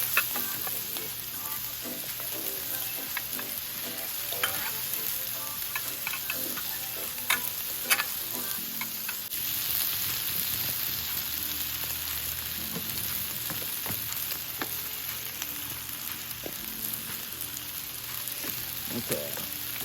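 Vegetables and meat sizzle steadily on a flat top grill for Philly cheesesteak, a dense continuous frying hiss with occasional clicks and scrapes of tongs, close and alone without talk.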